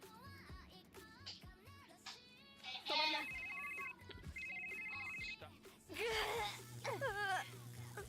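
A phone used as a weapon in a video game rings out with an electronic trilling ringtone in two bursts, mixed with chirpy squeaks, whimpering cries and game noise, faint voices underneath.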